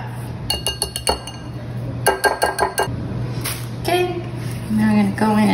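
A utensil clinks and taps rhythmically against a glass bowl while teal colouring is stirred into poke cake batter, quick bursts of clinks with a soft steady hum beneath and some brief voice sounds.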